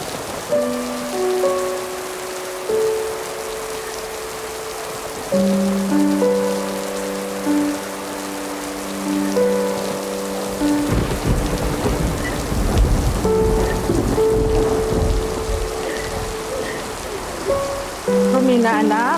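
Heavy rain falls with thunder rolling in, a steady wash of downpour under a sustained musical score that drops away midway as a deep rumble swells.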